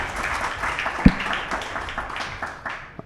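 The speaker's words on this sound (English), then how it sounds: "Round of applause for Panjian" Applause from the audience at a startup pitch contest on demo day, light and scattered clapping heard from a distance in a hall, with one sharp louder clap near the middle.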